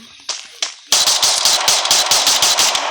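Rapid MP5 gunfire in the Free Fire video game, a couple of single shots followed by a loud, close burst of about a dozen evenly spaced cracks.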